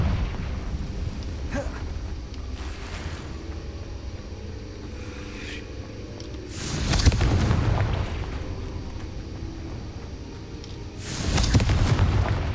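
Booming fire-spell explosions in the Hogwarts Legacy video game, two heavy broadband blasts a few seconds apart rising out of a constant loud rumbling game background.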